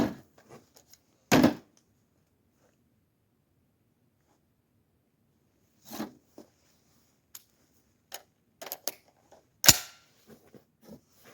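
A 5.56 rifle fitted with a Deer Creek Stealth Blast muzzle device fires a few sharp, muted reports spaced seconds apart, with small clicks and handling noises in the quiet between shots.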